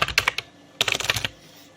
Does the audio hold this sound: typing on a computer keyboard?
yes